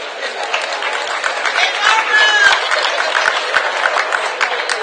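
Audience applause follows a keynote address at the ROP Expo 2015, a dense, steady wash of clapping from a large crowd, with cheers and chatter mixed in throughout.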